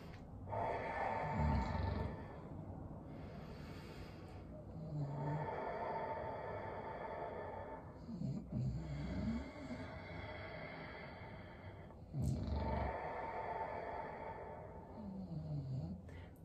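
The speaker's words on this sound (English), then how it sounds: "just few deep inhales and exhales" Slow, deep breaths in and out during a cool-down in a sock-slider workout, long airy swells repeating at an unhurried rhythm, close and soft, with no talking.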